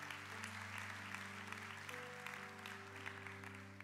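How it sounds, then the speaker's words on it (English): Steady applause from a crowd, continuous and fairly distant, with a low hum underneath. "give all of our guests a huge round of applause"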